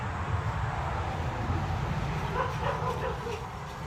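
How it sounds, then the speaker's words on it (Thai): A dog barks and yips somewhere amid a loud, noisy background wash, the calls indistinct and partly masked, with someone talking over it. "เสียงมาเห่าตะพื้นเนี่ย"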